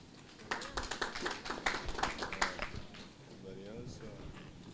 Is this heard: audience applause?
yes